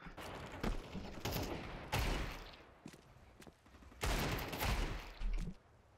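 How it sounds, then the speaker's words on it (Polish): Desert Eagle gunshots in the video game Counter-Strike 2, sharp bursts of gunfire in quick clusters with pauses between, fairly quiet overall. "Kolejne takie przykłady tych strzałów niby."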